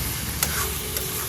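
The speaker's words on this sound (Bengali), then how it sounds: "এবার এটাকে ভালো করে ভাজবো" A ground paste of ginger, cumin, poppy seed and a little mustard frying in a pan, with a low steady sizzle and two quick stirring scrapes.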